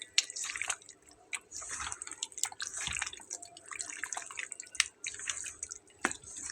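Broiler chicken pieces being mixed with masala by hand, giving close, wet squishing and dripping sounds in an irregular run of soft squelches with no talking.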